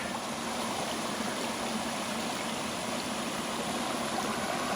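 A creek flows steadily, a continuous rushing, trickling wash of water with no voices.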